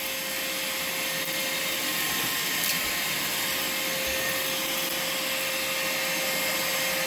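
Vacmaster 2.5 gallon, 2 horsepower shop vacuum running steadily during a mess cleanup, a loud continuous whine and rush of airflow up close, with no talking.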